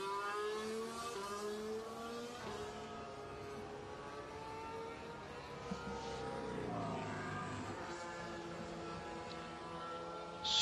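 A Formula 1 car's engine whines steadily on the track during qualifying at the 2016 Malaysian Grand Prix, its pitch sliding through gear changes, heard at a distance and moderately loud, with no talking.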